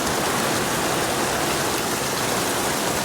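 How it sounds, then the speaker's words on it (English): Steady rain falling outside in a garden, a dense even hiss of light sprinkling that continues unbroken throughout. "we got the rain."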